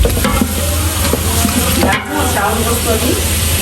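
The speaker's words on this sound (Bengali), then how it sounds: "তেলটা গরম হয়ে গেছে এখন পেঁয়াজটাকে পুরো বেরেস্তা করে নিই" Sliced onion sizzles and fries in hot oil as it is stirred toward crisp browning, a loud close steady hiss with scraping stir noises throughout.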